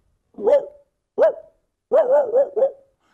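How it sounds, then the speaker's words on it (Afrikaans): A dog barks several times in a short, irregular series, one single bark, then a quick run of three, close and clear with no voices over it. "Daar blaf daai hond."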